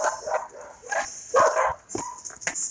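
Several dogs bark in short, uneven bursts with a few yips, close by and fairly loud, right as a vehicle's brake is let off on a farm where cows are fed.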